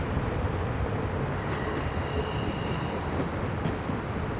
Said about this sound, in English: We need to stop the train.